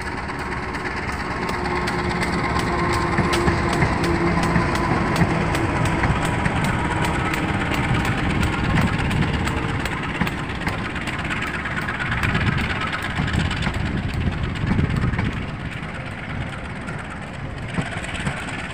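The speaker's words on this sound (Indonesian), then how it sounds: "Dari Pasar Senen melintas CC201. Kereta api Dharma Wangsa" A CC201 diesel locomotive hauls the Dharma Wangsa passenger train through Jatinegara station, a long, steady engine rumble with rhythmic clicks of wheels over rail joints, sustained and fairly close, with no talking.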